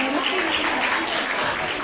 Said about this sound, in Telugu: చప్పట్లన్నా కొట్టారా